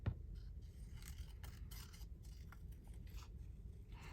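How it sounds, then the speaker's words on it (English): Scissors cut out bordered pieces of paper ephemera as a faint, close run of crisp snips and scraping rasps in a quiet room, with no voices. "They have a little border around them, so they're kind of easy to cut out, these ones."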